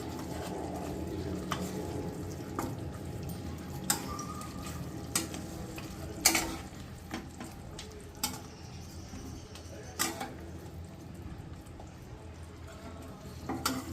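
Dahi katla fish being stirred in a pan with spices and a spoon of sugar: soft sizzling beneath periodic spoon scrapes and taps on the pan, close and steady, no voices.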